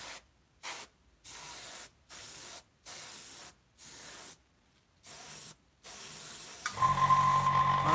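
Paint goes onto a model vehicle from an airbrush in a series of short, even hissing bursts with brief silences between them, about eight sprays close to the mic. A steadier hiss follows at the end.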